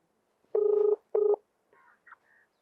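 A phone sounds two clear electronic tones, one long and one short, followed by a few faint, brief beeps, all close and quiet with no talking.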